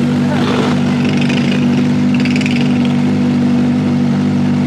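A Kawasaki ZX-4RR motorcycle engine runs close by with a steady, loud mid-pitched drone and brief rises in throttle, while people talk and call out over it.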